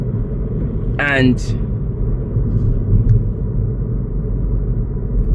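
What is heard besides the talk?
passing road traffic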